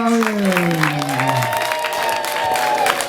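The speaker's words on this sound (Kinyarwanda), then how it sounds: "amashyi menshi n'impundu z'urwanaga" An audience bursts into loud applause with high, wavering ululation sliding across the top, the trilling cries fading after a moment while the dense clapping carries on, close and continuous.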